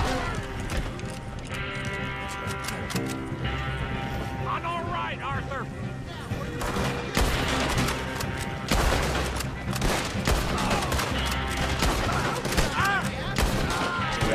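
Repeated gunshots in a Red Dead Redemption 2 shootout, scattered cracks and volleys mixed with hoofbeats and animal bleats, running under steady talk and game voices.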